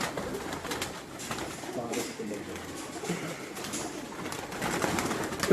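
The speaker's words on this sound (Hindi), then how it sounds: "आपके उस्ताद के घर के कबूतर आपको वेलकम करने के लिए" Pigeons coo softly at a teacher's house in Gujranwala, a low murmuring of birds under steady nearby speech.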